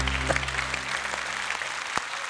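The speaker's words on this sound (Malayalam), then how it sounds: "നല്ലൊരു കൈയടി കൊടുത്തേ" A studio audience at a comedy show applauds, a dense wash of clapping at even volume throughout with no voices over it.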